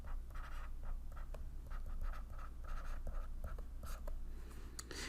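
Pen or marker scratching out an equation by hand on a surface, a close run of short strokes and squiggles with brief pauses, no voice.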